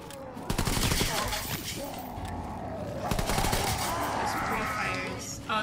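Sustained automatic gunfire in the World War II shooter Call of Duty: WWII, rapid and loud fusillades with a short lull, while players talk over the shooting.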